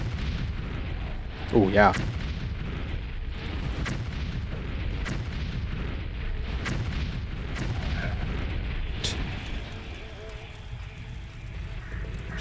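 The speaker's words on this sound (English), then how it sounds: "I'm gonna bring a fireball." A fireball spell cast in the fantasy game Morrowind: a whooshing burst and booming impacts over a steady game rumble, followed by softer thuds, with a player briefly speaking over it.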